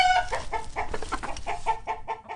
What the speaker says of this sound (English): The hens were awake, clucking over one another